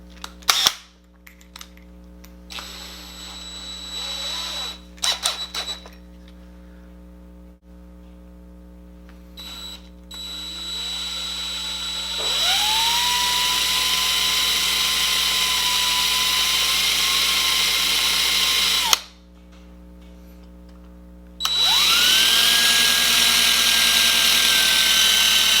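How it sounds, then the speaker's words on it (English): An electric drill boring out the rivets on a Hot Wheels die-cast car, whining steadily in long runs with brief stops and restarts, close and loud over scattered clicks and handling noises. "So let me grab the drill and start drilling these rivets."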